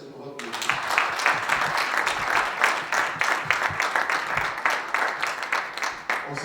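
A church congregation at a worship service bursts into applause, a dense, loud wash of many hands clapping that holds steady and crowds the whole space, with voices mixed into the noise.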